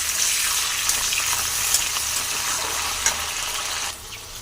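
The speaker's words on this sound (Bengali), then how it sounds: "কড়াইশুঁটি হালকা ভেজে নেব।" Green peas lightly frying in a pan with garam masala spices, a continuous bright sizzle with occasional stirring clicks, close and steady, no talking.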